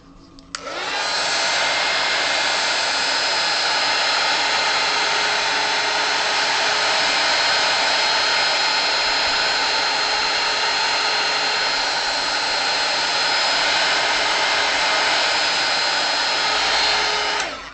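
A heat gun blows hard and steady over a hoodie to dry black paint, a loud continuous whooshing roar that starts abruptly and holds level for the whole stretch with no voices.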